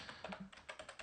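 A password typed on a computer keyboard, about eight or nine crisp key clicks in an uneven quick rhythm, close and clear with no talking.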